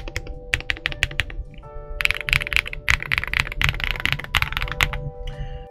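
Typing on a Redragon Ucal Max K673 mechanical keyboard with loose stabilizers gives close, crisp clacks and thocky key strikes in quick, uneven bursts, louder presses standing out among a steady flurry of keystrokes.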